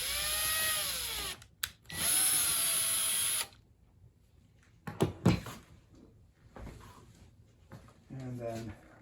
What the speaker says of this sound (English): my ratchet on setting number 1 for this. I do not want to strip out the screw